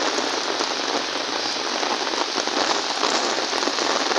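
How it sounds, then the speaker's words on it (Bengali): Heavy rain pours down in a dense, unbroken roar, loud and close throughout with no voices over it. "ভালো বৃষ্টি হচ্ছে"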